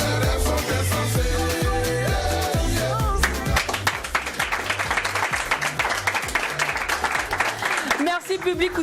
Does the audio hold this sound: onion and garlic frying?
no